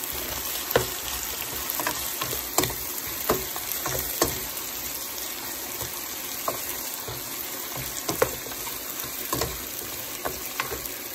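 Beef and bitter gourd (ampalaya) sizzle in a pan while a spatula repeatedly scrapes and taps against it, close and steady, with sharp clacks scattered over the constant frying hiss.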